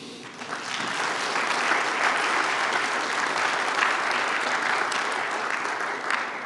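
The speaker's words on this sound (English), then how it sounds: "I would appreciate it if you could thank them with your applause" Conference audience at an MSIF 2025 workshop panel applauds the organizing team, a sustained, even wash of many hands clapping that swells in after a brief soft start and holds steady to the end.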